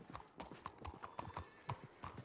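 Horse hooves clip-clop steadily in a Western roleplay video game, a quick even gait near and fairly loud, with a faint whinny and some soft talk beneath.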